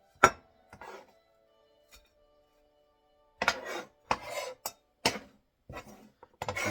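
A glass plate handled on a kitchen counter: a sharp clink at the start, then a scattering of short scrapes, taps and clatters, close and fairly quiet, separated by silence.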